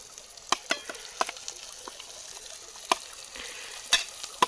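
Chicken cooked with dry coconut, onion, ginger, garlic and coriander sizzles in a kadhai over a stream, with sharp scraping stirs of a spatula recurring at irregular intervals, close and clear with no talk.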